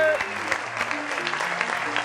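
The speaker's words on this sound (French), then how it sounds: "Applaudissez" An audience at a live DJ show claps in a short burst of applause while music plays beneath and voices talk over it.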